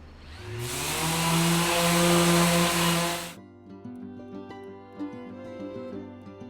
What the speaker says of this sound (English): I'm going to go ahead and give it a quick sanding to get any glue squeeze out off